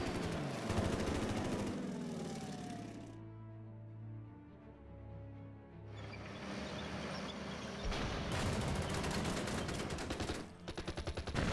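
Gunfire from units in the WWII strategy game Order of Battle: Blitzkrieg, dense rattling bursts of shots and booms that pause for a few seconds with a lower rumble, then resume loudly with no talking.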